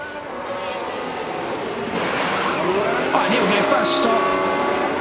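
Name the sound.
Formula 1 pit stop in F1 Manager 24 video game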